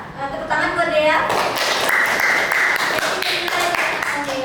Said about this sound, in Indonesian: Tepuk tangan buat Dea.